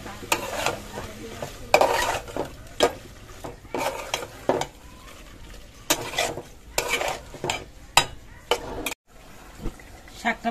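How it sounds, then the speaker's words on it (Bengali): Fish frying in a pan while being stirred, with bursts of spatula scraping and clatter over a low sizzle, coming in irregular close strokes with short pauses between them. "মাছগুলো কষিয়ে রান্না করবো"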